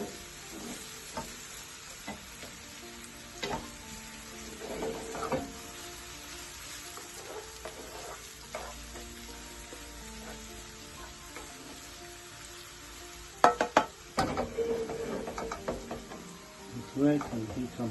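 Onions fry in a pan for a spicy aloe vera omelette, a low continuous sizzle with scattered stirring clicks and scrapes, growing busier and louder near the end.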